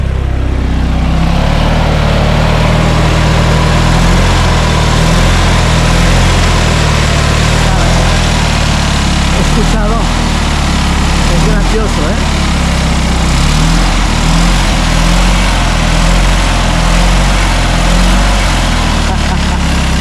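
A 1969 Fiat 500L engine runs and idles with a loud, steady low rumble throughout, while people speak Spanish over it.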